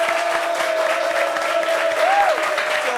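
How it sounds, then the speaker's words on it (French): Studio audience applause welcoming a guest on a French-language talk show set, steady dense clapping throughout with a sustained musical tone underneath. "Applaudissements pour lui."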